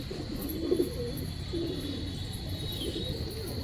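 Desi pigeons coo softly nearby in repeated low, rolling calls over a steady background hum.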